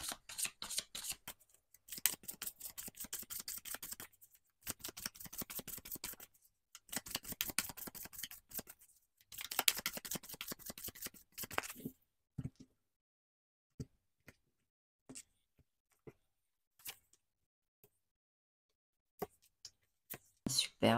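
Tarot cards riffle-shuffled in several long bursts of dense crisp flutter, followed by sparse light taps and clicks as cards are laid down, close and fairly quiet with no talking.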